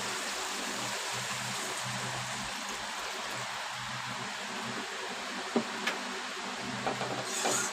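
Water poured into a pan of hot oil while cooking fish curry, giving a steady loud broadband hiss and sizzle that holds throughout, with a few small clinks near the end.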